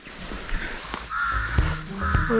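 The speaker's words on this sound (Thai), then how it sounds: "ทำไมนกตัวอื่นมันร้องแล้วมันอ๋อเสียงนก เพราะจังเลย แต่พอเป็นอีกาแล้วแบบ กากา" Harsh, repeated caws from a crow nearby, several loud calls over steady outdoor background noise at a campground in Pa Hin Ngam National Park, Chaiyaphum, Thailand.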